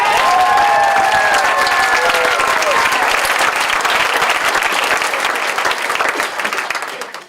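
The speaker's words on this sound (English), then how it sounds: "you can clap as much as you want now" Loud, sustained applause and cheers from a crowd at a Story County Democrats gathering, a dense roar of clapping with a few whistles early on, fading slightly toward the end.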